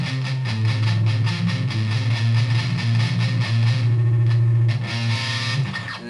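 Distorted electric guitar riff from a song, a steady repeating pattern with a heavy low-end drone, loud and continuous without speech.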